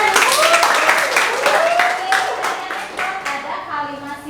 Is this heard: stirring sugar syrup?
no